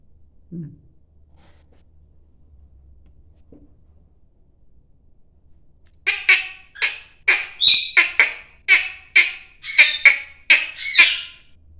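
A pet cockatiel squawks in a rapid run of harsh, loud, close calls after several seconds of near silence broken by a couple of faint sounds.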